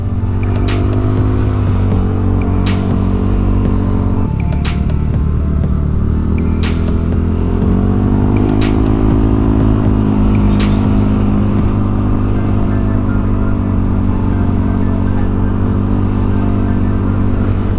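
A large group of Yamaha Aerox scooters from a riding club streams past at close range, a loud continuous engine drone with rising and falling revs and passing surges, no talk.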